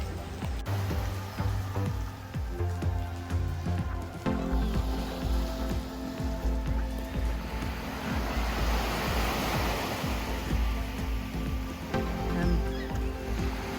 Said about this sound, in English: But this is an awesome little beach.